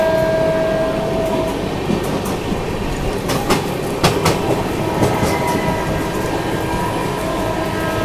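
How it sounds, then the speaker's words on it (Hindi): A Pune–Danapur summer special train made up of ICF coaches runs past, a loud continuous rumble with rhythmic wheel clatter and sharp metallic clanks through the middle. "Pune Danapur summer special. ICF coaches के साथ में चल रही है ये।"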